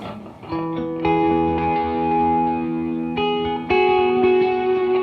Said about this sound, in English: Probably a very common sound that I use is just a ping, a stereo ping back and forth.